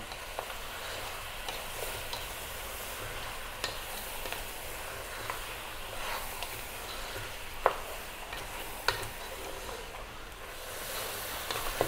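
Garlic and onion cook in a pan for an Ethiopian lamb dish, giving a soft continuous sizzle with light scraping stirs and a few sharp utensil clicks against the pan.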